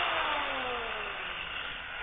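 Repaired cordless screwdriver whose worn motor brushes were fixed, its electric motor whirring steadily at high pitch and winding down slightly in tone as it runs on its own.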